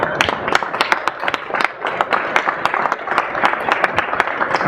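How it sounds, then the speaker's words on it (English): Dense, steady clapping from an audience at the 2014 MCACN car show unveiling of 'Adrian', a one-of-one 1972 Pontiac Trans Am, with many sharp claps overlapping close by and no talking. "Give one more round of applause for Adrian and his beautiful car."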